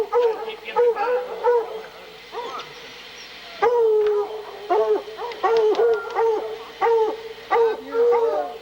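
Hunting dogs on a bear hunt bark and howl repeatedly in close, overlapping bursts, with a long sustained howl midway and choppy yelps throughout.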